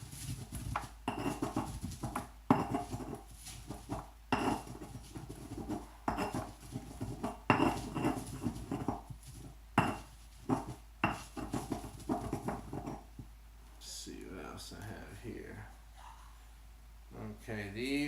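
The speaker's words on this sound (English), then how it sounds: "So I'm going to take some of that sunflower, grind that up a little bit too." Dried sunflower pieces are ground for homemade incense, likely with a mortar and pestle, giving repeated scraping, clinking strokes in an irregular rhythm, close and fairly quiet, while a person talks over much of it.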